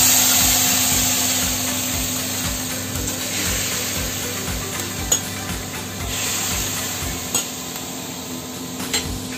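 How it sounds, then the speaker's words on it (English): Fish stock hitting a hot wok while cooking beltfish, giving a steady close sizzle and hiss with faint stirring scrapes running through it, alone without talk. "This fish stock, throw into the wok."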